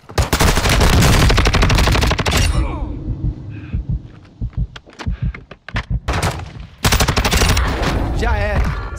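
Rapid automatic gunfire in Call of Duty Modern Warfare II multiplayer roars in a dense, loud, sustained burst, then breaks into scattered shorter volleys and single shots.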